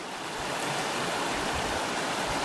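Steady broadband rush of flowing water, like a nearby stream over rocks, continuous and even throughout with no voices.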